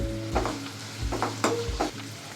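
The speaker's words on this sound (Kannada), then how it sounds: "ಈರುಳ್ಳಿನೂ ಹಸಿರು ಮೆಣಸಿನ್ಕಾಯಿ ಹಾಕ್ತಾಯಿದ್ದೀನಿ. ಹಾಗೆ ಸ್ವಲ್ಪ ಸಾಲ್ಟ್ ಹಾಕ್ಬಿಡ್ತೀನಿ, ಈರುಳ್ಳಿ ಬೇಗ ಫ್ರೈ ಆಗುತ್ತೆ" Onion and green chilies frying with salt in a pan give a close sizzle, with several distinct stirring scrapes at a steady pace and a low background hum.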